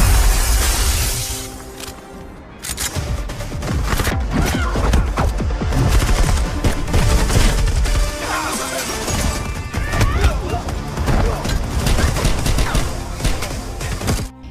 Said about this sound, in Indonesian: aksi tembak-tembakan.